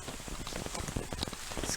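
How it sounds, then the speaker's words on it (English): Light rain beginning beside a mountain creek, a dense steady patter of drops falling on leaves and surfaces close by, mixed with the continuous hiss of running water. "It's kind of a small sign of a little bit of rain."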